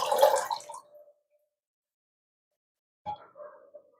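Water drains off freshly washed homemade butter made from packet milk, giving two short, close splashy pours separated by a silent pause.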